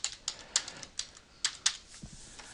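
Typing a test response on a computer keyboard: a short, quiet burst of key clicks in an uneven rhythm, close and alone, with no voice.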